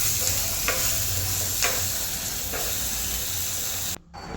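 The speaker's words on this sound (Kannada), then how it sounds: "ಎಣ್ಣೆಯಲ್ಲಿ ಫುಲ್ಲಾಗಿ ಫ್ರೈ ಆಗಬೇಕು" Dill leaves frying in hot oil give a steady, close sizzling hiss with a few soft stirring scrapes, then cut off abruptly near the end.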